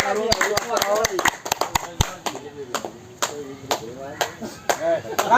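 At a Guru Purnima yoga gathering, scattered sharp handclaps from a small group burst irregularly, thick at first and then sparser, with people talking throughout.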